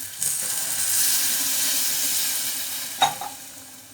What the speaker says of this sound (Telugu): ఇందులోనే కొంచెం వాటర్ కూడా పోసేసుకుందామండి